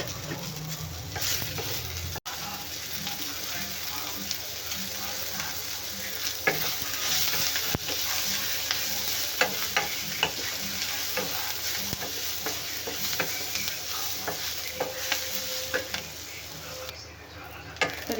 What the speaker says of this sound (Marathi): इथे कांदा पण आपला छान भाजला आहे